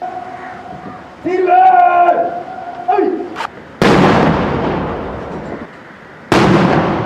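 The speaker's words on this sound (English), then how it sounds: "Afterwards, the president was accorded with the 21-gun salute." A 21-gun salute for a president at a state ceremony: two loud, booming cannon blasts with long rolling echoes, close and powerful, preceded by a brief melodic tone and a voice speaking.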